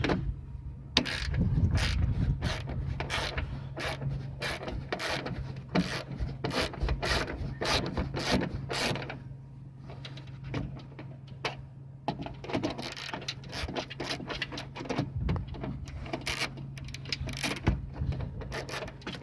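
Ratchet clicking in repeated bursts while undoing four bolts on the reverse light of a 2016 Nissan Altima 3.5 SL, close and fairly steady, with scraping and rubbing mechanical noise under a low hum and no talk.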